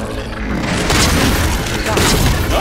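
Heavy booming sniper rifle shots in Halo 4 Spartan Ops, set in a dense, loud stretch of game noise with a player talking over it.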